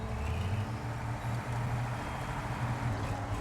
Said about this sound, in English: I like the sound of the engine, too. It's got this, like, weird hum to it, which is kind of cool.